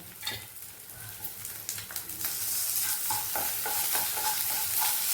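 Ginger and garlic sizzling in hot oil with fennel and green chillies while preparing Pallipalayam chicken, a steady crackling fry with scraping stirs and clinks of a spoon against the pan, close and alone.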